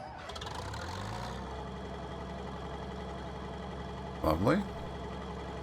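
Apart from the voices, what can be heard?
harvester engine starting and idling, Farming Simulator 19 video game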